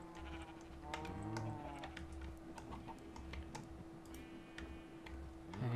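Sheep bleating in the Minecraft video game, a few short wavering calls set among clicking keyboard-like ticks and a steady background hum, moderately loud throughout.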